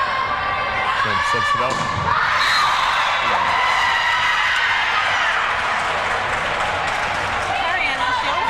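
Loud, dense crowd cheering and shouting fills a gym during a senior night high school volleyball match, with squeaks and ball thuds mixed in, steady throughout while an announcer talks over it.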